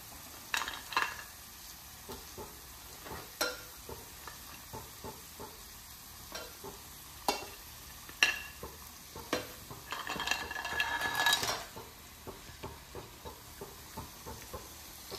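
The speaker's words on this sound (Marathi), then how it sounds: "मसाला मस्त शिजला थोडासा, त्याच्यामध्ये सगळ्या चिंबोऱ्या या टाकू।" Crab pieces added to cooking masala in a pan for crab curry, then stirred: scattered scraping and clattering knocks, with a louder burst of sizzling hiss partway through and no talking.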